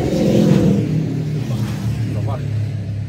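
Motorcycle passing by outdoors near a rural manor, a loud low engine rumble fading as it moves away, while people talk over it.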